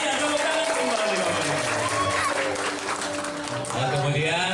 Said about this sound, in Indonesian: Ayo ya, tepuk tangan kembali.